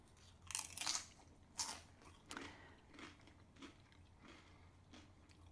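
Crisp crunches of tortilla chips bitten and chewed with chipotle guacamole, close to the ear, a few loud bites early then softer chewing, with no talk.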